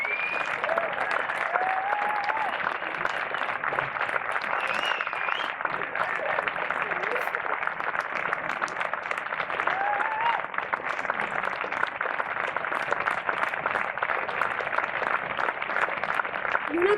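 A live concert audience at an outdoor venue in the historic Parc del Pont del Diable applauds a musician, a steady dense wash of clapping lasting throughout with scattered cheers and whistles above it.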